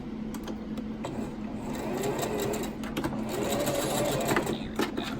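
A sewing machine runs continuously, stitching a fabric face mask closed, its steady close mechanical whirr and rapid needle clatter filling the whole stretch with a few brief ticks near the end.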